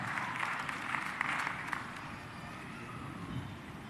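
An audience claps at the Cavendish University graduation ceremony, a soft, fairly distant patter of applause that is busiest at first and then thins out.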